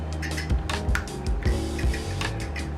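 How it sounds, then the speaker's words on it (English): A fork whisks eggs in a flour well for homemade pasta, giving a rapid run of close scraping, tapping strokes in an uneven rhythm, loud and without talk. "Now you're just going to take a fork and begin whisking those eggs in the middle of your well."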